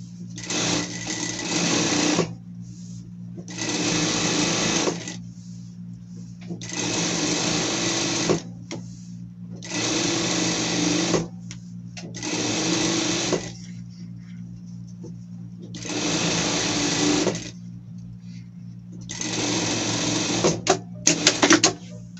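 A sewing machine stitches fabric for a pet outfit in seven steady, fast-running bursts of a few seconds each, separated by brief pauses, close up and loud over a low constant hum.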